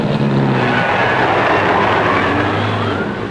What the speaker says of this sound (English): Out of the first turn, Sachs is up to full racing speed, but half a lap behind A.J. Foyt